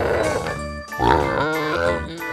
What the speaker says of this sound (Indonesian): Suara babi.